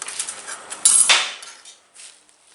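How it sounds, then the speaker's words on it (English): Hammer blows on a metal windshield frame being curved for a 1931 Chevy rat rod, a few sharp, close ringing strikes with a louder pair near the middle, no talking. "just that little bit of hammering"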